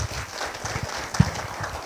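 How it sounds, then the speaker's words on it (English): Audience applauds speakers at a stakeholders' dialogue event, a faint, sparse patter of clapping with one sharper clap standing out, heard briefly. "Please, a round of applause for our speakers, for all of them."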